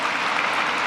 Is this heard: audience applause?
yes